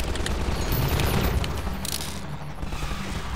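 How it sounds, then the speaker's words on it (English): Gunfire crackles in Half-Life 2, a burst of sharp, loud shots with mechanical clatter, fading into quieter sound by the end. "I wonder if I can kill him by shooting his gun"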